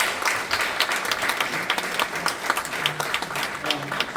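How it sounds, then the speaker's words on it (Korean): A church panel discussion audience applauds the panelists, a dense, steady wash of many hands clapping throughout, fairly close and even, with faint voices mixed underneath. "괜찮으시면 패널 분들께 박수 한번."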